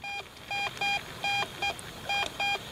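Metal detector sounding a strong target signal over a river hunting spot: a series of short, clean electronic beeps in an irregular stop-start pattern, close and clear over faint background hiss.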